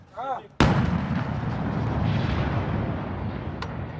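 An M777 towed 155mm howitzer fires during a live-fire exercise with U.S. Marines: a brief shouted voice, then a single sudden, very loud close blast whose roaring rumble decays slowly over several seconds.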